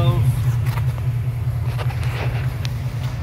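A 1990 Ford Bronco with a Coyote engine swap idles through a Magnaflow muffler exhaust, a steady, deep rumble close to the microphone while a person talks over it.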